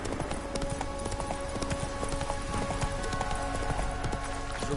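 A horse gallops in The Witcher 3, its hooves pounding in a steady fast clip-clop rhythm throughout, mixed with game ambience and a faint tonal background.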